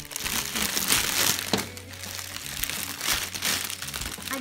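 Gift wrapping paper crinkles and tears as a Mother's Day present is unwrapped, with continuous close rustling and crumpling in bursts.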